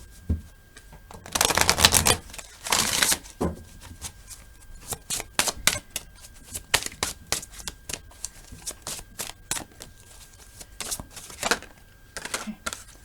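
Oracle deck cards riffled and shuffled by hand, loud bursts of flapping card shuffles early on, then a long run of quick, close, crisp taps and snaps as cards are handled and drawn.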